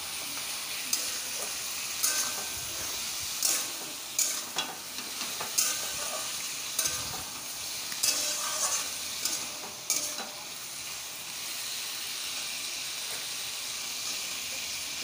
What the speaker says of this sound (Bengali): ভালোভাবে কষিয়ে নিয়ে একে একে মশলাগুলো অ্যাড করবো